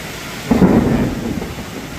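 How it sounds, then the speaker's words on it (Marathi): A deep rumble of thunder rolls in over a steady hiss of heavy morning rain in Chandigarh, swelling then slowly fading. "ढग पण प्रचंड वाजत आहेत"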